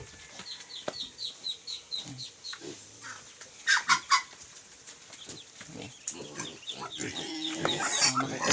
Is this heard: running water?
no